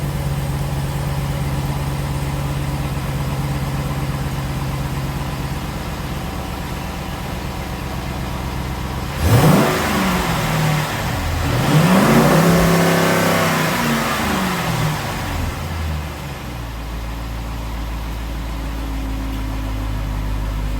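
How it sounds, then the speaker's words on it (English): A Dodge SRT Durango engine idles steadily, then revs up in a couple of quick surges before dropping back to a low idle; close and fairly loud, no talking. "just gonna go ahead and give it a couple revs and pressurize the oil system"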